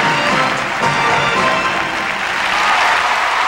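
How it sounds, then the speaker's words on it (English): Arena crowd applauding figure skater Timothy Goebel after his skate at the 1994 U.S. Olympic Festival, a loud, steady wash of clapping with a faint rise toward the end. "Timothy Goebel with a big hand from the crowd"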